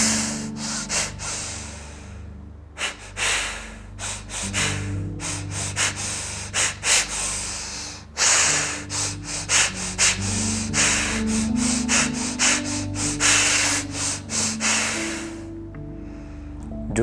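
Fast, chaotic breathing exercise: rapid forceful inhales and exhales through the nose, close and loud, in an irregular rhythm with brief pauses, continuing throughout with no talking.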